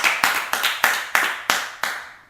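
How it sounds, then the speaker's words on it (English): About seven slow, evenly spaced claps ring out close and clear at the end of a studio talk show, sounding like a small group rather than a full audience. "Let's give our two guests a big round of applause."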